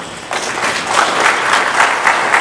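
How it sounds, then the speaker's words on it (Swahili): A standing audience at an official gathering for financial institutions breaks into steady, dense applause that starts abruptly and continues evenly throughout, loud and close, with no one speaking over it. "Simameni tuwapigie makofi."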